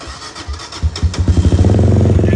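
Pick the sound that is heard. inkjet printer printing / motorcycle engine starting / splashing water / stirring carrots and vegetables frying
motorcycle engine starting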